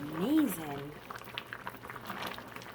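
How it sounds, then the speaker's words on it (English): A pot of lentil, potato and spinach soup bubbling at a boil, soft crackling pops that continue after a brief voice at the start. "I want it to continue boiling."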